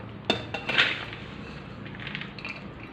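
Sharp metallic clinks and scraping as freshly made boondi is moved into a metal plate, a few close knocks early on, then softer rattling that fades.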